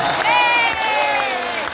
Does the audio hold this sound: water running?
no